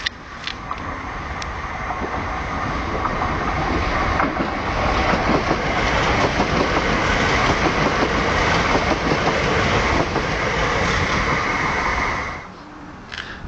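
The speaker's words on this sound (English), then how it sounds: "A train. It's a train, that's right." A train rumbles past steadily and loudly, with a dense rolling clatter that holds for about twelve seconds before dropping away at the end.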